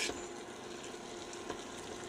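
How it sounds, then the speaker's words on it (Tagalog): Eggs frying with sliced bitter gourd in a pan as they are stirred, a steady soft sizzle with light scraping and a couple of sharper spatula taps, close and without talk. "Haluin natin para madurog ang itlog."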